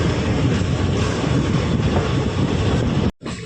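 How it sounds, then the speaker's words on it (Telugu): A DEMU train on the Ballari–Hosapete line rolls steadily and loudly past at close range, a continuous rumble of wheels and carriages that cuts off abruptly near the end. "సో ఆ ట్రైన్ అనేది వస్తుంది ఇప్పుడు."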